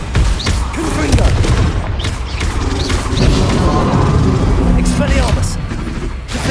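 The Confringo blasting curse in Hogwarts Legacy goes off in a string of loud booming blasts amid chaotic combat clatter, with shouted voices mixed in throughout.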